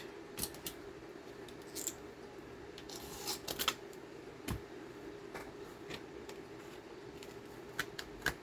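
Scissors snip through paper for a Victorian folio craft, a series of crisp, irregular close cuts and rustles over a steady background hum.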